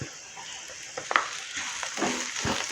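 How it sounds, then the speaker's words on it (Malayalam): Chopped onion and green chillies sauté in a pan for a Malayali bitter gourd stir-fry, giving a steady soft sizzle with occasional scraping stir strokes, close and alone without talk. "ഇതും ഇനി നന്നായിട്ടൊന്ന് വഴറ്റിയെടുക്കുക"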